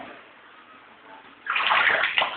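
Quiet watery background, then a sudden louder rush of sloshing, splashing flood water close by inside a house for the last second.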